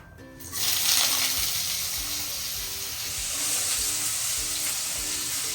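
Potatoes fry in a pan with whole cumin, salt and a little sugar, giving a steady, close sizzle and hiss that holds throughout.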